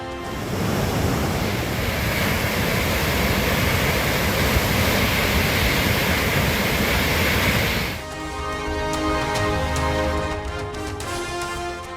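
Cauvery river water thundering over Hogenakkal falls in heavy flow, a loud continuous broadband roar for about eight seconds before giving way to a different, quieter tonal background.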